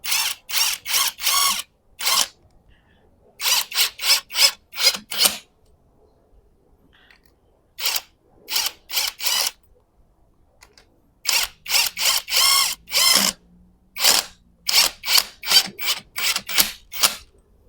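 A cheap cordless brushless impact wrench runs on its lightest mode, firing loud rapid hammering bursts of impacts in repeated runs separated by short silences, close up and with no talk.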